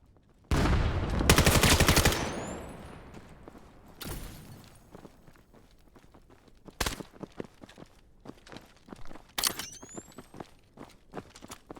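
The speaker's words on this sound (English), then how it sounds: "Trading shots with Cray." Gunfire exchanged in a competitive shooter game: a loud burst of rapid automatic fire, then scattered single shots and short volleys at varying distances, with clicking and footstep-like taps between.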